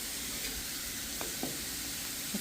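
Shrimp frying in a pan for spring roll wraps, a steady soft sizzle with a few faint stirring clinks, low and constant throughout.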